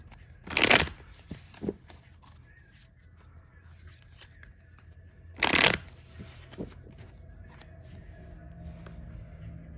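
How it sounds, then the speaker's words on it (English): Two separate bursts of a tarot deck being riffle-shuffled, a few seconds apart, with soft tapping and handling noises in between against a quiet room. "I'm just going to shuffle the first deck just a few more times"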